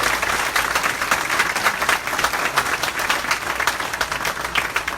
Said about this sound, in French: que je vous demande d'applaudir encore chaudement